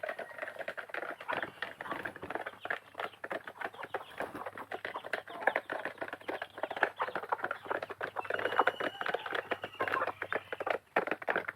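Busy patter of many small feet and scattered chick peeps as desi chickens and chicks run to feed on a farm, a dense rustling clatter that keeps up steadily throughout.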